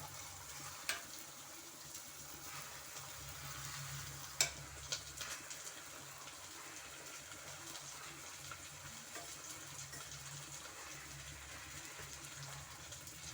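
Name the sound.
drumstick leaves frying in a pan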